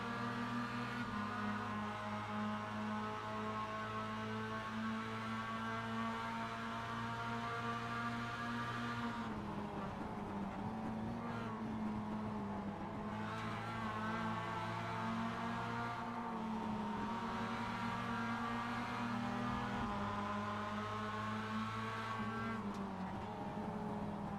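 Onboard engine of a Mazda MX-5 Cup race car at Spa in the iRacing game: a loud, steady, high-revving drone with audible gear shifts and pitch changes throughout.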